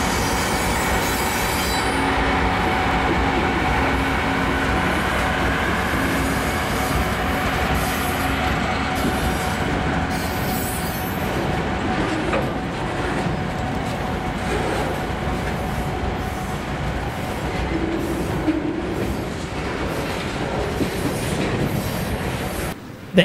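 A southbound freight train led by four GE locomotives rolls past at Taylor Yard, a loud, steady roar of wheels and cars with squealing flanges and rhythmic clickety-clack running throughout, no voices.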